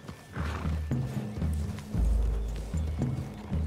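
Horses gallop in the video game Red Dead Redemption, with heavy hoof thuds, whinnies and snorts over rumbling low movement, close and fairly loud, with no talk.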